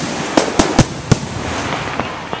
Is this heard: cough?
no